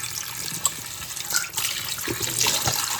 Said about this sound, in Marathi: पटकन आता ह्याच्यामध्ये पाणी टाकते